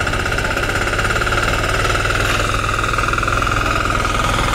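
Firman two-axle cultivator engine working a field, a loud rapid chugging and knocking that stays close and steady throughout.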